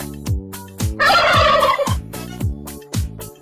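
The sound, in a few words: turkey gobbling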